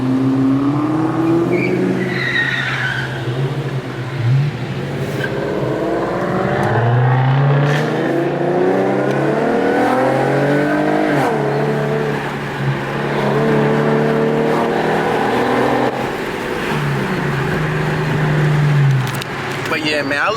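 Cars rev their engines at a New Jersey car meet, several loud rising and falling revs overlapping one after another, close by, with brief tire noise and voices mixed in.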